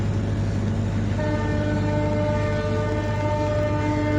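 A train on a trial run crosses the new Pamban railway bridge by the seashore, giving a loud steady rumble with a sustained horn tone that starts partway through.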